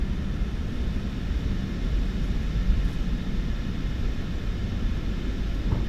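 A PMDG 737-800 airliner on its takeoff run in Microsoft Flight Simulator 2024, a steady broad engine roar with deep low rumble holding constant and loud throughout, no voices.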